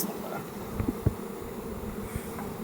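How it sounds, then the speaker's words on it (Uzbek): Bees hum in a steady, soft drone, with a few faint knocks and rustles close by. "Mana arini o'rtacha ahvoli shunaqa."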